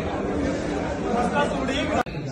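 Dense crowd chatter from a packed audience gathered for a folk lecture event, a steady indistinct murmur of many voices throughout, briefly cut by a sharp click near the end.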